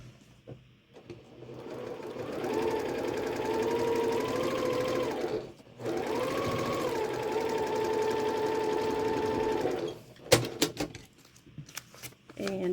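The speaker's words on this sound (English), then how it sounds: "I'm gonna go ahead and sew this on that line." A sewing machine stitches quilt block fabric along a marked line in two steady runs with a short pause between, ending with a few sharp clicks and handling noises.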